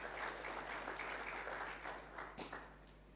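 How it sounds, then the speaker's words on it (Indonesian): Long, steady applause from a church congregation at a Sunday worship service, fairly faint and distant, with dense clapping sustained throughout and a brief louder burst near the end. "Tepuk tangan yang panjang."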